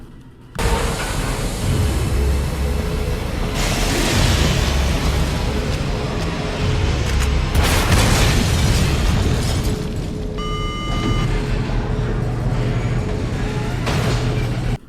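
A rocket launcher fires in a Resident Evil game. Heavy booming explosions with rumbling bursts run almost the whole time, and a loud blast comes around the middle.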